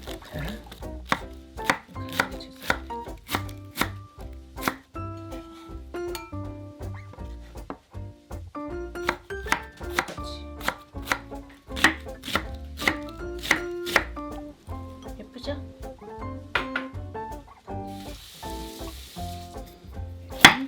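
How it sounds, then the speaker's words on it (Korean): Rapid, steady knife chopping on a cutting board, crisp repeated thuds of blade cutting through cabbage, close up with no talking. "양배추부터 썰어볼게요"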